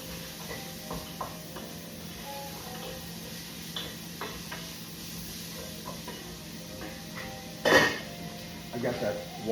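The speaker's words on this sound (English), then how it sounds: "Give those vegetables a stir." Vegetables are stirred in a soup pot for chicken and andouille soup, with faint scraping and light clinks of a utensil against the pot, a soft sizzle beneath and one louder clatter near the end.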